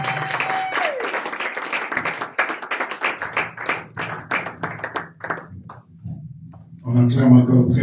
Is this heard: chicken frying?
no